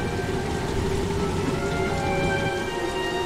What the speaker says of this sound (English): To banish the rain.